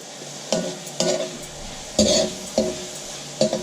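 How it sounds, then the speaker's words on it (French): Sliced vegetables for vegetable spring rolls being stirred and lightly sweated in a hot pan, with a steady low sizzle broken by five distinct scraping stir strokes, close and fairly loud. "on mélange, on laisse suer légèrement, parce que là, on va pas faire cuire nos légumes beaucoup"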